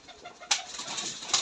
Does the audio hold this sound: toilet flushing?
no